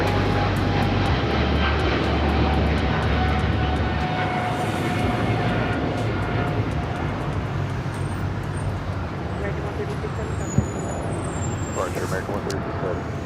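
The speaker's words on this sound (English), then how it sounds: "How about a flight heading to London? The American 777-300 ER." An American Airlines Boeing 777-300ER jet airliner bound for London, heard at LAX as a steady, loud engine roar that holds broadband for the whole stretch, with a low rumble fading after a few seconds and talk over it.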